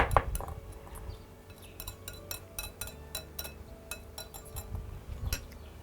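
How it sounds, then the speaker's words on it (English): A rice and egg mixture is stirred in a bowl, producing a quiet run of light clinks and taps from a utensil against the sides, repeated irregularly and close by. "stir it very well to combine"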